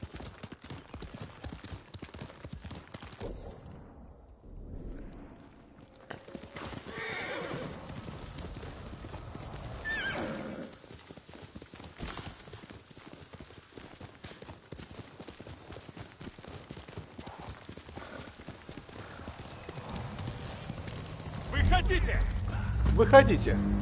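A horse gallops and neighs in the video game Ghost of Tsushima, with steady hoofbeats and whinnies running throughout while a player talks over them, the clatter swelling louder near the end.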